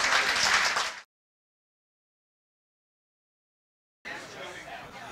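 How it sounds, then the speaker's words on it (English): An audience applauds at an auction-style event, with a short burst of clapping that cuts off, a stretch of silence, then a second round of clapping and crowd noise. "how about a big round of applause for everyone who just bought a piece of history?"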